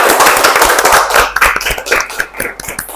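Applause in a classroom after a student presentation on network routing: dense, loud clapping from many hands at first, thinning into scattered individual claps toward the end, with no talking.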